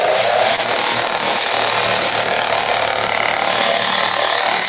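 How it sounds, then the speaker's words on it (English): A drum sander runs steadily on wood in a woodworking shop, a loud continuous mechanical whir with a rattling, grinding texture that holds without pause close to the microphone. "Now that's a damn drum sander right there"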